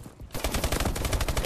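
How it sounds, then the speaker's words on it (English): Rapid automatic gunfire from a weapon in Call of Duty: Advanced Warfare during a Hardpoint match: a loud, continuous burst of close shots. "I can still do some work with this gun."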